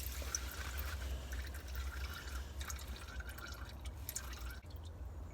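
Engine oil drips from the sump drain of a Ford Mondeo during an oil change, with faint irregular drips over a soft background hiss.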